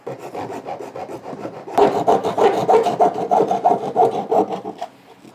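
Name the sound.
hacksaw blade cutting plastic for trailer hitch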